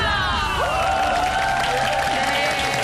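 A studio audience cheers and whoops at the opening of a Korean TV health show, a loud, continuous crowd roar with high shouts and some clapping lasting throughout.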